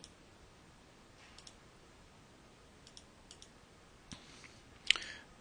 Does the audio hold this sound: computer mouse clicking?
yes